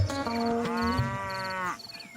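A water buffalo in a village gives a single long, deep moo, close and loud, which then cuts off into quiet.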